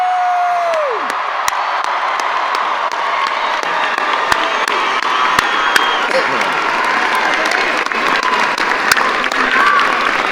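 An audience applauds the Franklin High School class of 2019 at a graduation, with steady dense clapping, some cheering and whoops filling a large space, and a brief voice at the start.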